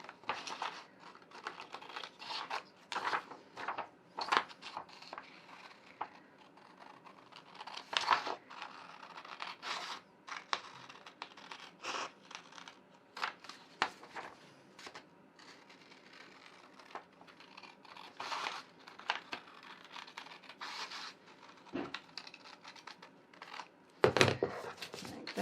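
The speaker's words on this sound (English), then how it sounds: "So I just cut out the other 3 sides." Scissors snip and crunch through a paper pattern piece for a tote bag, giving many short crisp cuts in an irregular rhythm, close and fairly quiet, with paper rustling between them.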